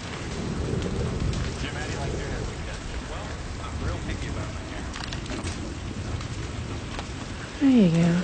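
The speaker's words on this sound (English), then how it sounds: "How about the rain on the roof?" Steady rain on a roof patters throughout, a dense hiss with low rumbling beneath; near the end a brief louder whooshing sound rises over it.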